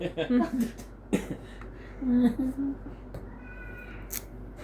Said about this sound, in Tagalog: parang may natawag. Pusa.